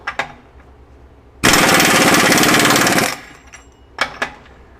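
A Myers MTS53371 air impact wrench fitted with a changed socket and set around 500 foot-pounds fires one loud, dense, rattling burst of about two seconds. A few faint clicks and taps come before and after it.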